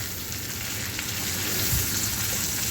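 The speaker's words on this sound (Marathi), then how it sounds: "याला छान परतून घ्यायची आहे" Chopped giloy (gulvel) vegetable sautés in a pan for bhaji, giving a steady close sizzle and crackle that swells slightly toward the end, with no talking.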